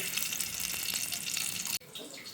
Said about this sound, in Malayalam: ഇപ്പോൾ എണ്ണ ഇതാ നന്നായിട്ട് ചൂടായി വന്നിട്ടുണ്ട് നമുക്ക് ഇതിലോട്ട് പെരിഞ്ചീരക ഉലുകയും ചേർക്കാം